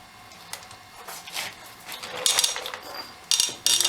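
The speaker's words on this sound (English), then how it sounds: "in order to do that, we're going to use our 13/16 socket" A 13/16 socket on a half-inch ratchet works loose the rotor nuts on a 2006 Ford F350 dually front brake, giving bursts of metallic clicking and rasping ratchet strokes, close and fairly loud, with brief pauses between.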